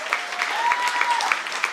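Applause from the audience at a high school sports awards ceremony, brisk clapping at moderate volume with faint voices mixed in for a couple of seconds.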